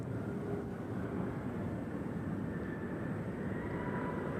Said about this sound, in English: Our other special livery of the day is the UNCF plane here from Alaska, as we've seen it land and now it's taking off.